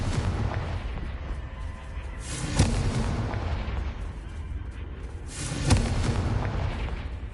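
Confringo blasting spell explosions in the video game Hogwarts Legacy, two sharp booming blasts a few seconds apart rising over a steady rumbling backdrop of combat noise.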